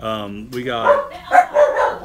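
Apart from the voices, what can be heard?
puppies barking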